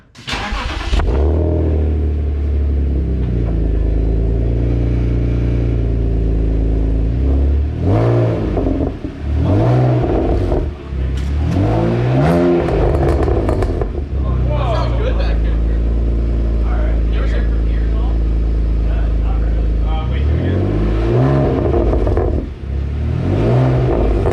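A car with a new catback exhaust revs hard on a dyno, its engine rising and falling through several loud, sustained pulls with brief dips between, and voices talk over it at times.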